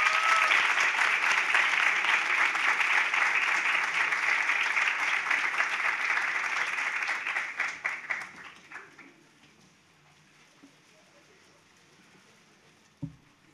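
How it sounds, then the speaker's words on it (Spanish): An audience applauds students receiving diplomas at a research program closing ceremony; dense, steady clapping holds for about seven seconds, then dwindles to scattered claps and near silence, with a single soft thump near the end. "Por favor, un aplauso para ellos."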